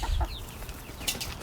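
Chickens on a farm cluck in short, close bursts while being fed, with a low rustle in the background.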